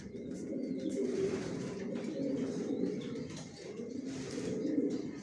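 Johnson-line pigeons in a freshly bedded loft, including a father bird sitting with his young chick, coo in soft, rolling bursts for several seconds, close by and unaccompanied by speech.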